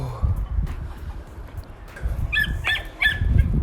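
A chicken on a farm gives a few sharp, squawking clucks near the end amid rustling and low background noise, fairly close but brief.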